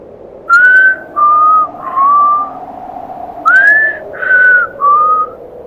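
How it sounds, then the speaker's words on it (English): A person whistles a slow, gentle tune in two matching phrases of three sustained notes each, clear and close against quiet background. "A soothing whistle was cutting the mist and dark air"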